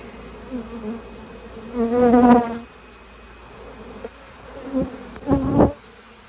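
Honey bees being hived into a Layens hive from a cutout, with two loud close buzzing swells passing by, one early and one near the end, over a faint background hum.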